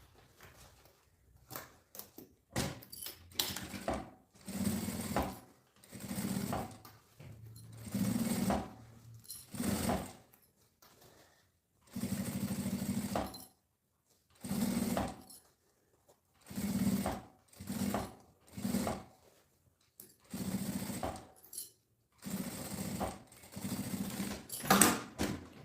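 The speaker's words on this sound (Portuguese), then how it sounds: "Uma costura com um pé de máquina em toda a volta." A sewing machine stitches with a presser foot around a fabric circle in short repeated bursts, each a second or two of close mechanical whirring, separated by quiet pauses.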